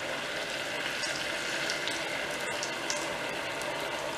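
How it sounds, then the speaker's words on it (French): Ginger beignets fry in a deep fryer set to 170 degrees, a dense steady sizzle and bubbling of hot oil with occasional small pops, close and constant. "On va commencer à frire les beignets en longueur."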